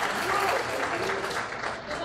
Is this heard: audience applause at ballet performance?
yes